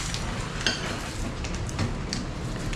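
Dried fish (tuyo) being stirred in a pan with tomatoes, giving a soft continuous sizzle with scattered clinks and scrapes of a utensil against the pan, close and steady, with no speech.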